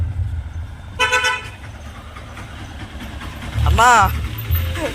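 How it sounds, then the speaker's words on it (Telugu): An auto rickshaw honks twice on a village road, with a short bright toot followed by a second, wavering honk a few seconds later, over steady traffic rumble and nearby voices. "ఇది ఆటో వస్తుంది"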